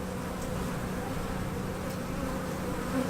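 Honeybees buzz in a dense, steady drone during a spring beehive check, close and continuous with no pauses or talk.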